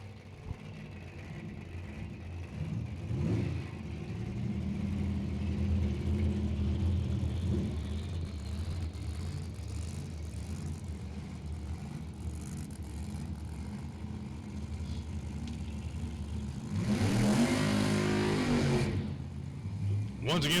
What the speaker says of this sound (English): And that Willys Coupe just fired up.